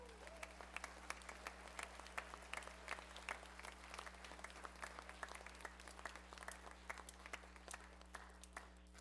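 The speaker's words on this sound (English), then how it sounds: "I would like to give another round of applause to my colleagues, Mr. Volinick and Mr. Fay." An audience at a school spring band concert applauds, a continuous patter of many hands clapping at moderate distance, steady from start to finish beneath a low hum.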